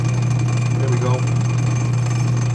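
A lapidary wheel grinds a gemmy crystal opal, giving a steady, close motor hum with a brief scraping touch of stone on the wheel near the middle.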